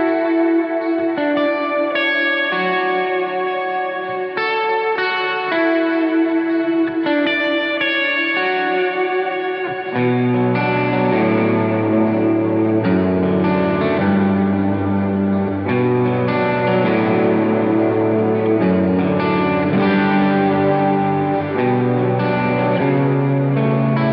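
A Gretsch electric guitar played on its treble pickup rings out bright, cutting chords and picked notes, first sparse and clean, then fuller and heavier after about ten seconds, washed in echo and reverb.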